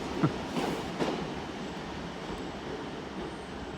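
A single Class 150 diesel multiple unit passes through Exeter St Davids station, a steady broadband rumble of rail noise with a few brief clacks near the start, continuous and fairly close.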